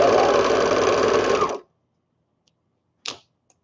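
A sewing machine runs a fast, steady stitch along a seam of skirted baby bummies for about a second and a half, close and loud, then stops, followed by a short click of handling.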